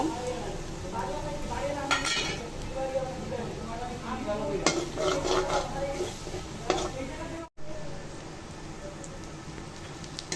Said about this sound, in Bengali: ডিমটা দিয়ে ঝুরঝুর করে নিয়ে মিশিয়ে নিয়েছি।